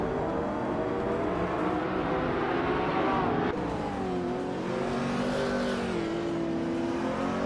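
Race cars, including a 2017 McLaren 720S, roar off the start at Wakefield Park in a racing game, several engines revving together loud and close with rising pitch and a gear change midway.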